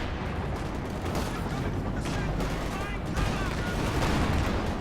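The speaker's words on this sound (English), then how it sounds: "Sherman takes a lot of anti-tank fire here." Dense, continuous battle noise in Company of Heroes 2, with anti-tank fire striking a Sherman tank among steady rumbling gunfire and artillery, loud and unbroken throughout.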